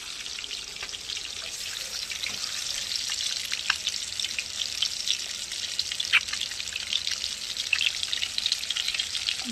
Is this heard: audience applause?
no